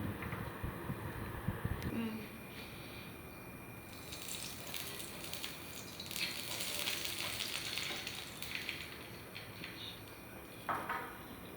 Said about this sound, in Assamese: ভাজি লৈছোঁ বনবিলাক